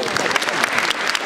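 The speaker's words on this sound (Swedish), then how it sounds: "En stor applåd till Fredrik Berglund" Dense applause fills the air for Fredrik Berglund at an Elfsborg celebration, a crowd clapping steadily and loudly throughout the short burst.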